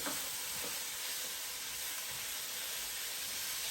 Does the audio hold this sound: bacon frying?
yes